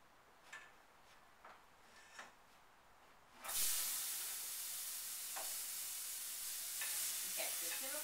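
Butternut squash simmer-frying in a pan with vegetarian sausage, a few faint clicks and then a sudden burst of loud broadband hissing sizzle that keeps going, with occasional light taps, close by.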